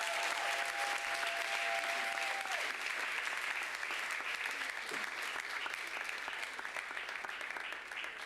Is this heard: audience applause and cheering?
yes